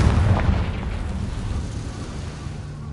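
A Confringo blasting spell explodes in Hogwarts Legacy, a loud, deep boom at the start that rumbles and slowly fades over a few seconds, with no voices.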